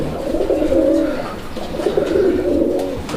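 Raj Golla fancy pigeons coo in a steady, throaty murmur close by, the soft rolling calls repeating in two long waves with no talk over them.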